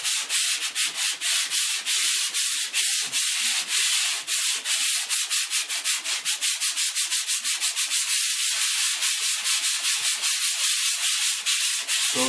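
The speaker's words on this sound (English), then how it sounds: "So if we sand in a circular motion, the dust tends to drop straight down." Hand sanding a painted ceiling in a circular motion: continuous, loud, close rhythmic scratchy rubbing strokes, steady and fairly fast throughout, with no talk.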